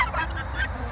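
Farm chickens gathered near a running water hose give a steady run of clucks and squawks in close range, with a low background hum underneath and no talking.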